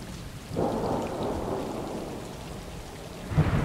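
Rain and thunder in the game Stray, with steady rainfall under a rolling thunder rumble that swells after a quiet start and flares again near the end.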